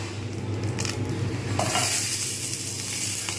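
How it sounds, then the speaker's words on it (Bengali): Sliced onions hit a hot frying pan, giving a steady close sizzle that grows louder and brighter about halfway through, with faint stirring, no talking. "যেহেতু ফ্রাইং প্যানটা গরম রয়েছে এইবারে আমি এই যে এইরকম করে যে কেটে রেখেছিলাম পেঁয়াজিগুলো এইগুলো দেব"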